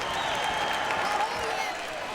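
A boxing crowd cheers and applauds at ringside during a fight, a thick, sustained roar of clapping and shouting with a voice rising through it near the middle.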